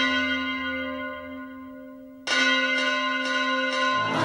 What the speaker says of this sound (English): I hear the sound of the bell.